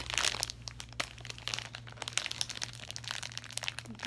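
A plastic package of soft Asian noodles from an Asian market crinkles and crunches as it is handled up close, with steady rustling throughout and no speech.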